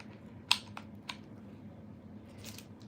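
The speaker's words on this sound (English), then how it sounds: "I'll take my scissors and kind of cut her a little bit rounder." Scissors snipping a piece of sponge while shaping a fake cake, a few quiet, sharp crisp cuts spaced apart over a low room hum.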